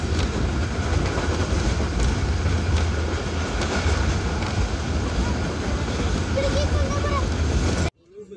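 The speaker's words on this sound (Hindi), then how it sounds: "ट्रेन का इंजन लगता है।" A train rumbles steadily and loudly throughout, with rhythmic rail clatter close by, then cuts off abruptly near the end.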